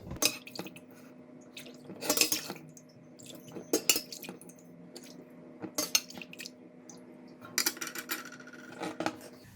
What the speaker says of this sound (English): I'm going to take some out from here. Put in the bowl.